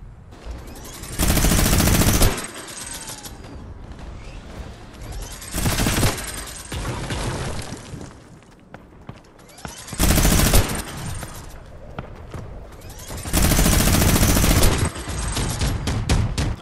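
Minigun firing in Fortnite comes in four loud, sustained bursts of rapid gunfire, each lasting one to two seconds. Quieter game sounds and lighter shots fill the gaps between bursts.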